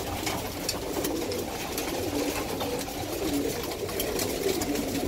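Pigeons coo steadily inside a loft, a continuous layered murmur of low burbling calls from several birds at close range, with no talk over them.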